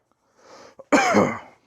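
A single harsh, throaty cough preceded by a soft breath and a brief throat noise, close and loud in an otherwise quiet space.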